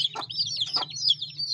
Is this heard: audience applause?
no